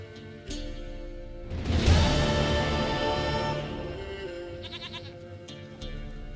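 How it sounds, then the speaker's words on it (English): A goat in The Witcher 3: Wild Hunt bleats against a rich game soundscape, a loud swelling burst near the start easing into a sustained, wavering ambience with a few shorter bleats later. "Goat of mine, dearest, sweetest goat."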